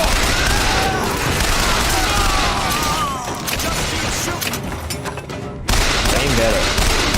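Gunfire in the video game BioShock Infinite, loud dense shots and booms layered under chaotic game sounds and a speaking voice.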